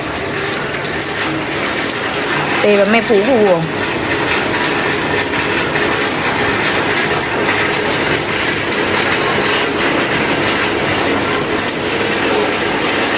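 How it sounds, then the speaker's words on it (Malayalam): Heavy rain pours onto the front veranda of a home, a dense, unbroken rushing roar throughout, with a brief voice speaking early on. "ഉമ്മറത്ത് നല്ല മഴ ഉണ്ട് കേട്ടാ"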